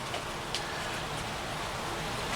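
Steady rain falls outdoors during clay-dirt collection, a dense even hiss of drops with a few brighter spatters, continuous and fairly close, no voices.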